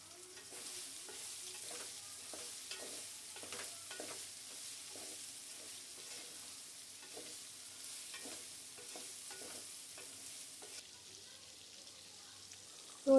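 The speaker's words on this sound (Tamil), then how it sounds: "அதே வெசலில் எண்ணெயை போட்டு சூடாக்கிட்டு அடுத்த பேட்சை ஃப்ரை பண்ணி" Soya chunks fry in hot oil in a vessel for a meal maker biriyani, giving a steady soft sizzle broken by frequent stirring scrapes and clinks, close and without talk.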